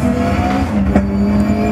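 A turbocharged race car engine in the RaceRoom racing sim, driven with a manual H-pattern gearbox, holds a loud, steady drone with a brief rev flick midway, close and alone.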